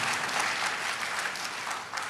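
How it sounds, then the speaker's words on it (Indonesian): A congregation at a church sermon claps together, a steady, moderately loud wash of applause with no voices over it. "Tepuk tangan lagi"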